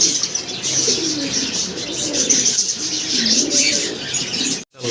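Soft, repeated pigeon cooing fills the scene, low throaty calls overlapping with chirps and a steady background hiss, briefly cutting out near the end.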